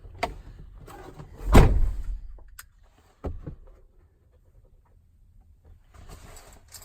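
Ford Transit van door opening with a loud clunk of the latch and a rustling swing, followed by a sharper click a moment later and faint mechanical handling noises afterward.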